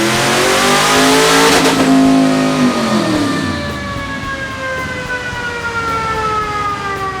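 A loud four-seater sandrail engine revs hard on a chassis dyno and holds high, then its pitch sweeps down as it winds off, settling into a steady whining drone.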